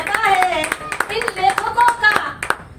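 Audience applauding at a Hindi poetry gathering (kavi sammelan), quick uneven claps over a voice chanting or reciting in rhythm, close and fairly loud.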